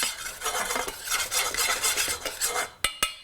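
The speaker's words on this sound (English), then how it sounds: "I have to toast about 2, I would say 3 dessert spoons, which will make about 2 tablespoons of coconut" Shredded coconut, about three dessert spoons, toasts in a very hot pan, stirred with scraping and rattling utensil strokes over a soft sizzle, ending in two sharp knocks against the pan.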